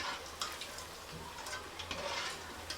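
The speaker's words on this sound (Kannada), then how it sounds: "5 ಮಿನಿಟ್ಸ್ ನಾನು ಫ್ರೈ ಮಾಡಿದ್ದೀನಿ, ಡೀಪ್ ಫ್ರೈ ಮಾಡಿದ್ದೀನಿ." Cauliflower pieces for gobi manchurian deep-frying in hot oil, giving a steady, even sizzle with faint bubbling and occasional soft stirring clinks close by.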